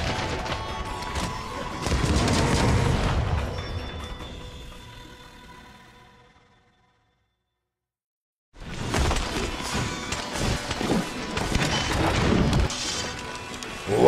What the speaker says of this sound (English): the Heavy Bowgun is capable of inflicting massive damage with its high-powered artillery